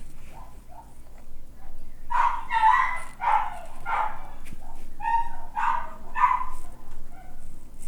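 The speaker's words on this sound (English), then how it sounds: "We've got 5 dogs. They like to bark." Several of a household's five dogs barking indoors in a home, a ragged run of loud, close yips and barks bunched in quick bursts over about five seconds with no talking.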